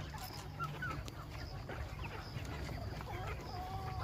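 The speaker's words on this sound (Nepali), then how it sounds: "म तपाईँहरूलाई मेरो लोकल कुखुराहरू देखाउँदैछु" Local Nepali chickens cluck in scattered bursts near a homemade coop, with a steady low hum running underneath throughout.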